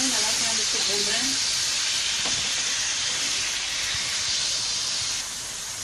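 Chicken fries with only salt in a pan for chicken karahi, giving a loud, steady, close sizzle that hisses without a break throughout.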